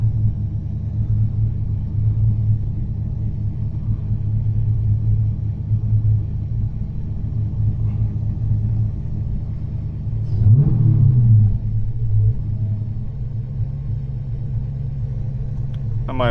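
Supercharged Dodge Challenger with a Whipple-blown 426 engine rumbles at a steady, deep idle close by. It then gives one brief light-throttle rev that rises in pitch before settling back into the idle.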